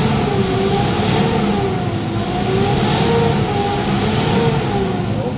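A Mitsubishi Montero SUV engine revs steadily to about 4,000 rpm, a high, sustained drone with slight rises and dips, close and loud, with no voices.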